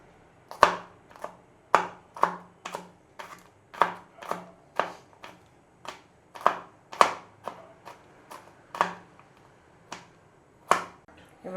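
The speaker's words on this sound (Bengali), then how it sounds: "এবার রসুনটা কুচিয়ে নেব, লঙ্কাটাও কেটে নেব।" A knife chops garlic and a green chili on a board in an irregular series of crisp, close taps, about a dozen strikes, with no talk.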